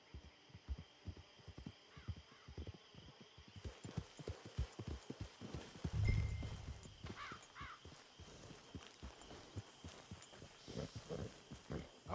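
Horse hooves clip-clop at a steady walking rhythm in the Red Dead Online video game, with a few faint bird caws on top and no one talking.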